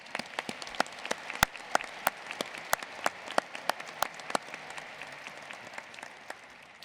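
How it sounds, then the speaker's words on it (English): Scattered applause from a crowd at a high school graduation, sharp individual claps popping out over a steady patter of hands, moderately distant and continuous throughout. "Please join me in a round of applause acknowledging their efforts."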